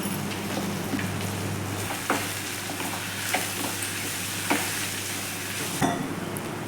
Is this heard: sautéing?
yes